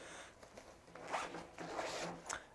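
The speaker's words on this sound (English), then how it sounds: "we're going to zip this up here" A zipper is pulled closed along a Crumpler Light Delight photo backpack in several quick, close, raspy strokes, fairly quiet and with no talk.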